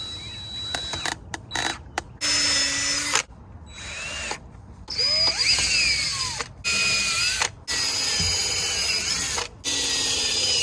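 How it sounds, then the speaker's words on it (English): A power drill pre-drills screw holes while doors are being fixed on a chicken tractor, whirring in several short bursts that start and stop between quiet pauses, loud and close. "Pre-drill our holes,"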